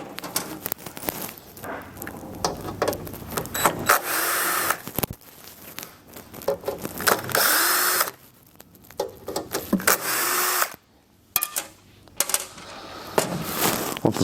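A power drill backs screws out of the cover of an MCS-16 furnace, giving repeated bursts of whirring with short pauses between them and metallic clinks and rattles of loose screws.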